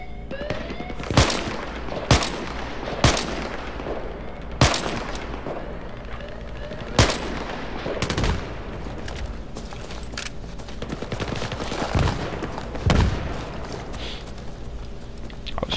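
Gunfire in Battlefield 3 multiplayer, sharp rifle shots cracking out one at a time and in short bursts at irregular intervals across a steady background din of battle, loud and close, with no speech over it.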